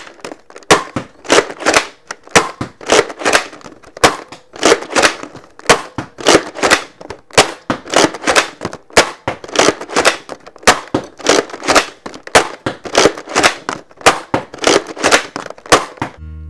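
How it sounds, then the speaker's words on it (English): A Nerf Thunderhawk blaster fires accurate darts over and over, each shot a sharp close pop. The shots come in quick clusters of two or three, with short pauses between them, and no voices are heard. "I'm shooting it with the accurate darts because that'll get the best experience with it"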